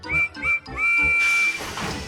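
A high whistle on a small tank engine gives two short toots and then one longer blast, sounding close, before a burst of hissing noise takes over.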